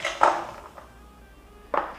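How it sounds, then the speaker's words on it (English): A cake layer being set back into its pan makes two brief, soft knocks against the pan about a second and a half apart, close and otherwise quiet. "We're going to put that back in the pan."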